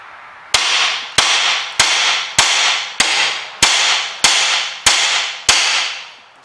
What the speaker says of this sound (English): the easiest way to separate this from here is get a hammer and hit